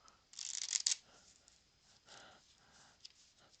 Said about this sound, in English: So I'm now going to shuffle face up into face down cards.